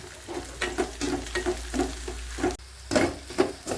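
Onions sautéing in oil in a pan for a manathakkali kai thokku, with regular stirring strokes scraping through a steady close sizzle, about eight rhythmic bursts with a brief pause near the end.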